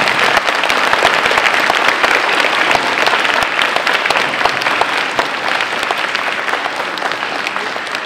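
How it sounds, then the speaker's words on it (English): An elementary school audience gives veterans a long round of loud, steady applause, many hands clapping at once and fading slightly toward the end. "Now, another round of applause for those who are with us today."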